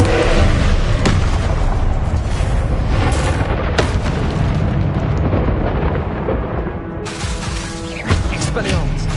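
Confringo blasting spells in Hogwarts Legacy, a string of loud booming explosions with sharp cracks and rumbling tails that repeat across the clip, with a voice talking between them.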